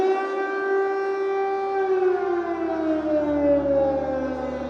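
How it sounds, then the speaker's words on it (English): Civil defense air raid siren wailing, a loud sustained tone holding steady then gliding downward in pitch as it winds down, with rich harmonics and steady background rumble. "A civil defense siren, also known as an air raid siren or tornado siren"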